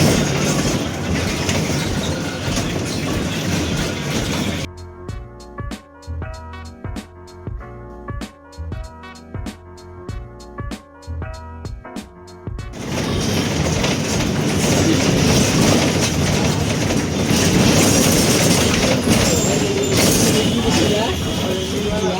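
Inside a moving passenger train in India: a loud, steady rhythmic clickety-clack of wheels over rail joints for several seconds, set between stretches of dense rumbling cabin noise.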